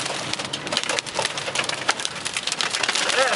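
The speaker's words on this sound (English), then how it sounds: "There's the hail." Dense hailstones clattering steadily onto hard surfaces during a thunderstorm in Drexel Hill, a loud, even patter with sharp ticking impacts close by.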